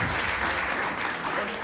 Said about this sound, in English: Let's clap for Derek.